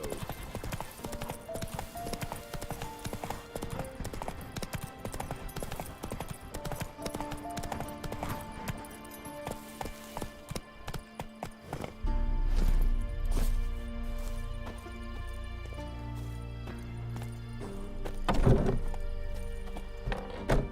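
The horse Roach trots along a road in the video game The Witcher 3, with a rhythmic clip-clop of hooves over background music, then a deeper thudding rumble takes over with a sharp knock near the end.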